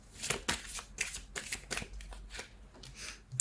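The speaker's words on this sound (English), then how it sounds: "Let me get you some purpose cards." Oracle purpose cards are shuffled close up in a series of crisp, rapid riffles and slides, each burst of flicking separated by brief pauses.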